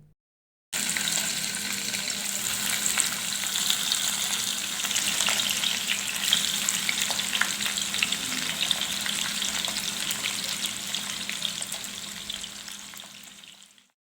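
Hilsa fish pieces, rubbed with turmeric and salt, fry in hot oil with a steady, loud, dense sizzle that holds for the whole stretch before tapering off at the end.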